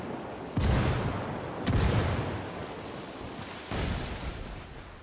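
Gunfire and a frag grenade go off in the Ghost Recon Wildlands video game. Three heavy, booming blasts land about a second apart, and each fades into a rumbling tail with no speech.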